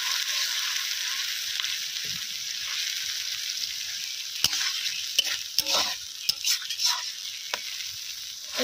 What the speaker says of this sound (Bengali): পেঁয়াজ বাটা হালকা ভাজা হয়ে এলে টমেটো বাটা দিয়ে দেবো।